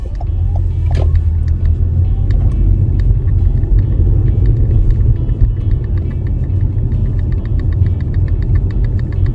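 A learner driver's car pulling away from the kerb and driving on, a loud steady engine rumble from inside the cabin with faint ticking and clicks over it, no speech.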